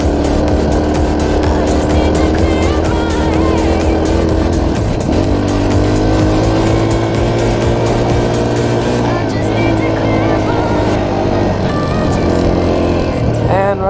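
Dirt bike engine droning loud and steady throughout a ride, revving up and down with shifting pitch, rider's voice occasionally mixed into the constant motor roar.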